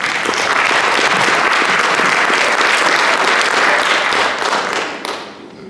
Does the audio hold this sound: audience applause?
yes